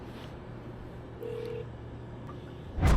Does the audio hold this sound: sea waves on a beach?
no